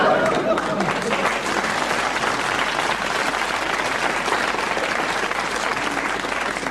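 A crowd at Euro Disneyland applauds. The clapping is dense and continuous and stays steady at moderate loudness from start to finish.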